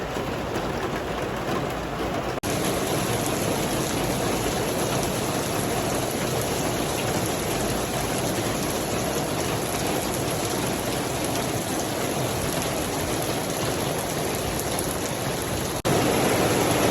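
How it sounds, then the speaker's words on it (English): Steady rainfall at a beach club in Roatán, Honduras, hissing evenly throughout, a dense wash of drops with no voices. "And it's raining."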